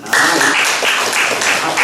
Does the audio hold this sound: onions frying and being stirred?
no